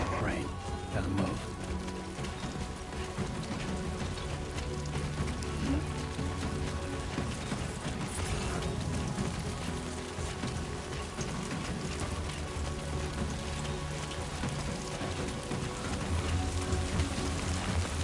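Steady rain in the video game Death Stranding 2 patters densely on surfaces, a continuous hiss with scattered drops; a voice speaks faintly underneath.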